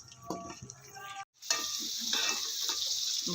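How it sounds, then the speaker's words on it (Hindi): Peas fry in oil, first with clattering stirring, then a short pause before a continuous, bright sizzle fills the rest of the clip. "मटर फ्राई कर लेंगे।"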